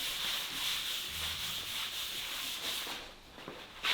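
Finish being rubbed by hand into the underside of a simple wooden bench, a steady close scrubbing hiss that continues throughout and fades slightly near the end.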